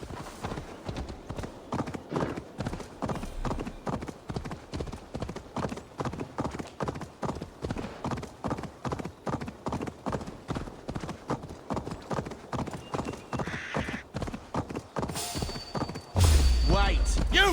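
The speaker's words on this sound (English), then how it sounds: "the horse just keeps running away" Rapid hoofbeats of a galloping horse in a video game clatter steadily and loudly, a constant rhythmic clip-clop, with brief voices and a sudden louder burst near the end.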